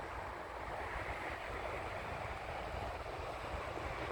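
Sea waves wash onto a shore in a quiet, continuous broadband rush, faint and distant under light wind noise, with no voices present.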